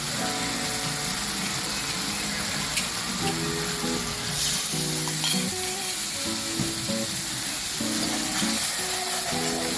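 Garlic and curry powder sizzle and fry steadily in a pot for curried goat, a dense constant hiss with brief louder bursts, alongside a faint, intermittent low melodic tone in the background.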